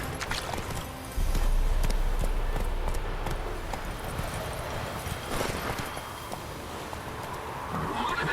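Roach the horse gallops in The Witcher 3: Wild Hunt, a steady run of hoofbeats under a thick layer of ambient game sound, continuing all the way through without letup.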